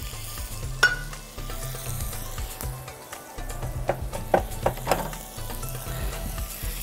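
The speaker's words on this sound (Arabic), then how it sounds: "هنزل بحبه زيت زيتون كده صغيرين، وهروح نازله عليهم اول بس ما سخن كده، هروح نازله عليهم بالبصل" Sliced onions hit a thin layer of hot olive oil in a pan and sizzle steadily, with crackling bursts and a few scraping stirs. No one speaks.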